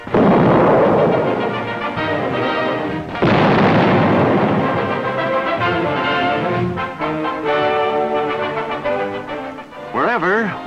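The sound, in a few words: wartime artillery guns firing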